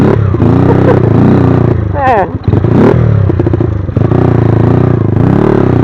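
A Honda Sonic 125 motorcycle converted into a dirt bike revs and strains along a rough trail, its engine loud and close with rising and falling throttle and some clattering, while a rider talks over it.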